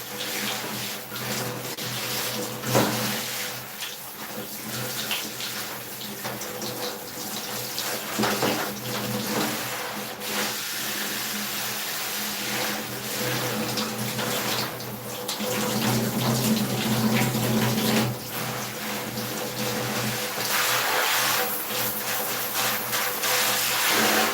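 Water runs steadily from a shower hose during cleaning, a continuous loud rushing and splashing that fills the whole stretch without a break, with no talk over it.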